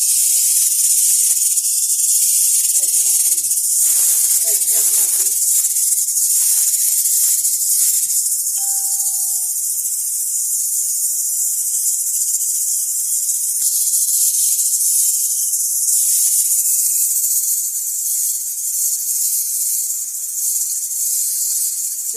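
A pressure cooker hisses steadily as chicken loaf cooks, a loud continuous high steam hiss running alone throughout, with a few brief rattles and tonal whistles partway through.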